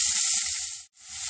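Hot oil sizzles in a pan while Tirunelveli vellai kulambu is being cooked, a steady close hiss with a brief break before it resumes.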